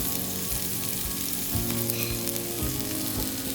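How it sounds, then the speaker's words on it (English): Olive oil and sesame oil sizzle steadily in a hot pan for stir fried rice, a loud, close, continuous crackle with occasional scraping from stirring and no talk. "I'm gonna go ahead and add some more olive oil and some sesame oil as well"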